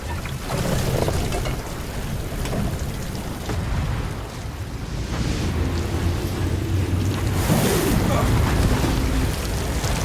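Storm-tossed ocean waves crash and roar around a yacht in a film scene, a dense, continuous wash of surging water and rain-like hiss that stays loud throughout with no letup.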